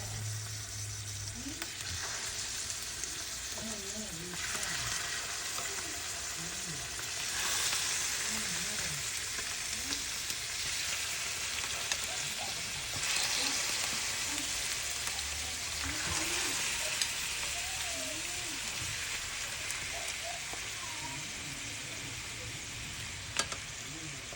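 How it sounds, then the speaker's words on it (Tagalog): Chicken pieces fry in hot oil in a pan for tinola, a continuous loud sizzle with crackling pops and occasional stirring, swelling and easing in waves over the whole stretch. "iprito ko muna yung chicken para hindi siya malansa"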